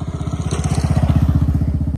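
A motorcycle with a Gujarat number plate idles steadily nearby, its engine producing a fast, even pulsing thrum with no speech over it.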